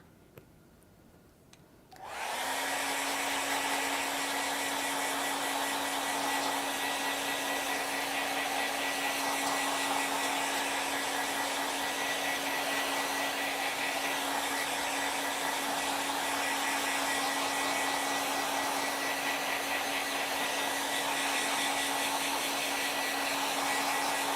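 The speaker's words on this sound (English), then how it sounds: "I'm going to go ahead and blow dry this" A hair dryer starts after a brief quiet moment and runs as a loud, steady whooshing blow with a constant tone while drying acrylic paint on a canvas, no talking.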